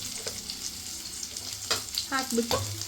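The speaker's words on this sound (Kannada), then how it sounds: "ಫ್ರೈ ಆದ ತಕ್ಷಣ ಅದಕ್ಕೆ ನೆಕ್ಸ್ಟ್ ಗಾರ್ಲಿಕ್ ಮತ್ತು ಇದು ಕರಿ ಲೀವ್ಸ್ ಎಲ್ಲ ಹಾಕಿಬಿಟ್ಟು" Garlic and curry leaves frying in hot oil for chilli chicken, a steady soft sizzle with a few sharper crackles and pops near the end.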